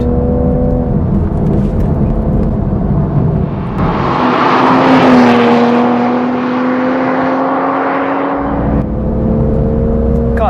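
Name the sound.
Toyota Supra manual engine sound while driving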